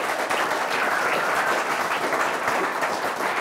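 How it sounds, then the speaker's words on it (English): Steady audience applause at a business talk, with dense clapping holding an even, fairly close level throughout and no voices over it. "Give me a round of applause, please, guys"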